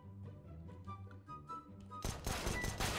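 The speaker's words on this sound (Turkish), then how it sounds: "silahımı çektim. Yine bakın şöyle sıkıyorum, tak tak tak tak tak." Gunshots from a handmade P250-based pistol mod in CS:GO, a short run of sharp reports near the end following a tonal game backdrop, loud and close with no talk.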